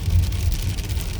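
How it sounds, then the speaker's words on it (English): Hailstones pelt a glass window during an Iowa hailstorm, making a dense, continuous rattling patter with a heavy low rumble underneath, close and loud throughout. "We're having hailstorm today."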